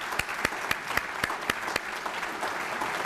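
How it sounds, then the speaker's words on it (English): A steady round of applause from a meeting audience, with sharper individual claps standing out against a dense, even wash of hands. "So let's give them a round of applause."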